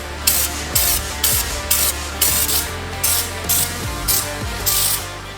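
Homemade steel rock sliders for a 4WD get spray painted, with about nine loud, evenly spaced hissing bursts from close by and no talk.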